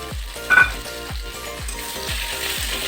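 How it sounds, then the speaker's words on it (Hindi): Gram flour gatte dumplings slow frying in a kadhai, with a steady close sizzle and repeated rhythmic scraping thuds from a ladle, no voices. "तो चलिए अब मैं हल्का सा इसे स्लो फ्राई कर लेती हूँ।"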